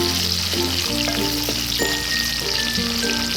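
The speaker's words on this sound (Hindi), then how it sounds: "इसमें हमने जो स्लाइस करी थी प्याज वो डाली और इसे हम लाइट ब्राउन होने तक" Sliced onions fry in hot oil in a pan, giving a steady, close sizzling hiss that runs the whole time, with a soft tonal musical bed underneath.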